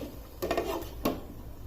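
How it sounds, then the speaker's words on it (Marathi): A metal lid is set on a pan of frying tomato masala for dhaba-style shev bhaji: two short, close clanks about half a second apart over a faint background hiss. "याच्यावर मी थोडं अगदी एक मिनिटासाठी झाकण ठेवते"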